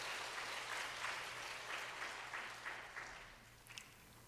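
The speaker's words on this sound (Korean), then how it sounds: "영상이지만 여러분 큰 박수로 환영해 주시면 고맙겠습니다." Audience applause at a church gathering welcoming a pre-recorded talk, a steady wash of clapping that holds for about four seconds before thinning out, with no voices over it.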